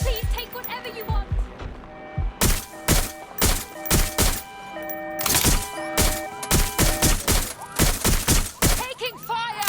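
Gunfire in the video game Watch Dogs Legion, loud bursts of rapid shots and heavy thuds in quick irregular volleys, close and dense, with voices talking between them.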